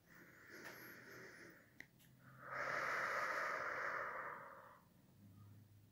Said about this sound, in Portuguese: Puxe o ar e solte o ar.